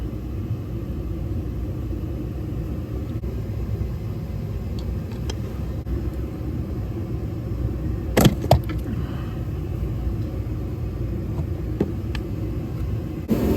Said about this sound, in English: So I apologize for the noise. I got my heater running.